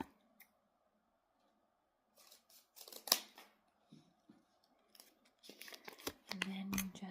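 Scissors snip through folded paper while a snowflake is cut out, with a few quiet, scattered cuts and crinkles followed by a denser run of snipping and paper rustle near the end, close and soft.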